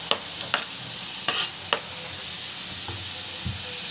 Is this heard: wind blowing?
no